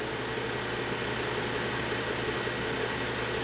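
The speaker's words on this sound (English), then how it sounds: "You can see how smooth and quiet the engine is." A 2011 BMW 535i xDrive sedan engine idles steadily with a smooth, even hum and faint vibration, no talking, constant throughout.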